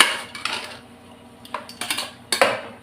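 Rice and salt being stirred in a pot for a one-pot coconut milk rice lunch, a spoon clinking and scraping against metal in irregular strokes, close and clear with no talking.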